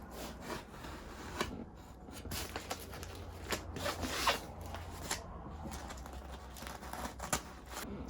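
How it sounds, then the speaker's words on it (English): An old sharpened kitchen knife saws through fiberglass insulation, producing a continuous run of close, dry rasping and tearing strokes with irregular rhythm, fairly quiet and without talk. "take an old kitchen knife and sharpen it up, get it nice and sharp, and then you can use that to slice right through"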